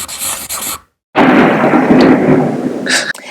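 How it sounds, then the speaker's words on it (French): Thunder from a thunderstorm outside a mountain hut: loud, broad rumbling crashes that break off into a brief silence, then one long rolling roar that slowly fades, with no voices. "comme vous entendez peut-être les bruits du tonnerre"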